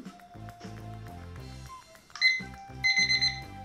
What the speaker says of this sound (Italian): era proprio la sveglia elettronica